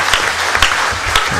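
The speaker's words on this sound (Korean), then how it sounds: "박수 한번 쳐주시기 바랍니다" An audience at a public housing policy forum breaks into brief, dense clapping, loud and close, lasting only a moment.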